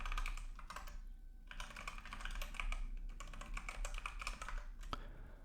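Rapid keystrokes on a computer keyboard as a name, email address and password are typed into an online sign-up form, steady bursts of clicking with brief pauses, close and alone with no talk.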